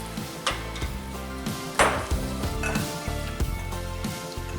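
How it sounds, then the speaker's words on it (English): A spoon scrapes and clinks around a skillet as chicken broth is stirred into rice, with a soft sizzle underneath; several distinct knocks, close by, no talking. "I'm gonna add all of our chicken broth to our pan and stir everything until combined"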